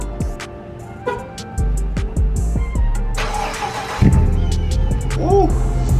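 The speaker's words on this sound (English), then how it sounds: "I'm gonna turn on the car so y'all can see it." A 2018 Dodge Charger R/T V8 starts up and runs, a rising crank and catch followed by a loud, rumbling idle with blips, close by and partly under casual talk.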